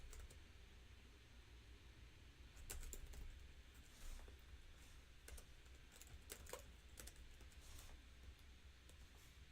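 Someone types code on a computer keyboard, with quiet, irregular clicks and bursts of keystrokes over a soft background hiss and no talking.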